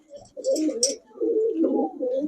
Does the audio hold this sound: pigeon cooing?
yes